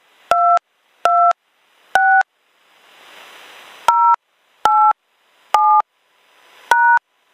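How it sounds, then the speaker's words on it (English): Touch-tone keypad beeps as a meeting ID is entered on a conference call line: eight crisp two-tone presses at uneven intervals, with a soft hiss in a gap partway through. "Please enter your meeting ID followed by the pound or hash sign."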